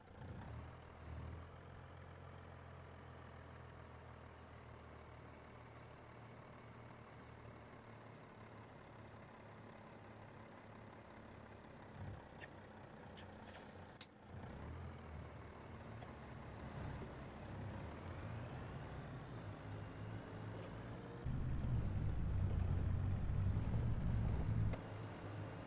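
Truck engine in Farming Sim 25, idling with a steady low rumble, with a sharp air brake hiss partway through and a louder, heavier engine roar near the end.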